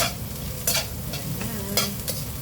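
Garlic sizzles steadily in oil in a frying pan while a utensil stirs it in a few scraping strokes, close and alone with no talk.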